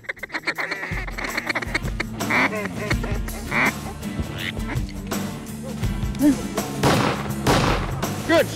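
Shotgun blasts during a duck hunt in the Mississippi Delta, several sharp reports near the start followed by duck quacking and calls, with people talking and outdoor noise throughout.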